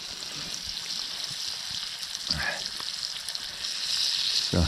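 Food sizzling and frying in a pan at a taiga hunters' camp kitchen, a soft continuous crackle with occasional stirring scrapes and bubbling bursts, fairly quiet and close, with no talking.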